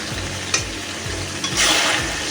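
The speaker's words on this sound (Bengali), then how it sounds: "টমেটো কুচি দিয়ে ভালো করে নাড়াচাড়া করে নিতে হবে।" Chopped tomato being stirred and fried with mutton for mutton ghugni, a close, steady sizzle with regular scraping strokes of a spoon and a brighter hiss swelling near the end.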